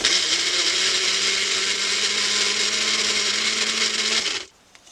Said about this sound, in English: Using a small blender, I shredded some tissue paper and water until I had a nice gooey mixture